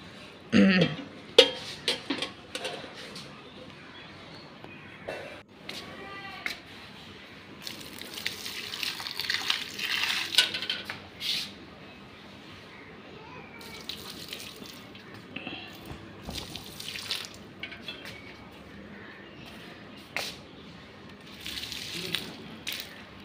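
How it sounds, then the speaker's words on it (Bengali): Water is poured onto plants on a hot day, with intermittent splashing and gushing bursts that rise and fall in loudness over a long stretch, mixed with light handling noises. "গাছে জল দেওয়া হয়ে গেছে"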